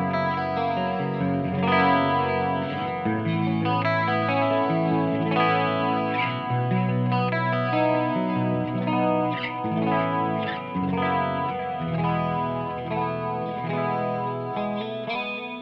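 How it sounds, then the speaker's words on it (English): Clean channel of a Revv G50 50-watt guitar amp played through a Julia chorus and a Flashback 2 delay with modulated repeats; shimmering, continuously strummed chords and notes ring out with echoing trails, steady and loud, with no talk. "let's go ahead and turn on the old Julia chorus and the flashback 2"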